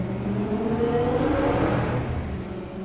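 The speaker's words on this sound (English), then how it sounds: "Man, it's so loud. Some of the engine noises." Historic sportscars in Assetto Corsa, among them a Ferrari 330 P4, Bizzarini and Chevron, roar steadily with loud, layered engine drone and revving throughout, several cars sounding at once.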